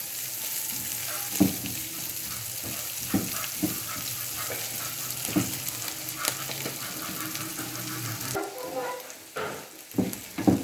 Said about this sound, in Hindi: इनको अच्छी तरह हम थोड़ा सा फ्राई करेंगे।